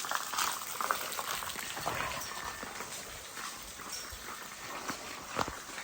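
Water pours steadily onto a Shiva lingam at a forest temple in the Nallamala Forest, a continuous soft splashing rush with a few brighter drips and splats, and no voices.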